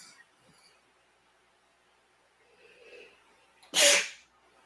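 A single loud, close sneeze bursts out near the end, following a few seconds of quiet room tone with faint scattered background sounds.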